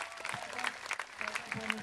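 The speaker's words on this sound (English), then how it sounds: "Give them a round of applause, folks." A street-performance crowd claps for two volunteers called up on stage, with a steady burst of applause mixed with some voices and crowd murmur throughout.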